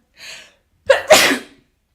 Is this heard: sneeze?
yes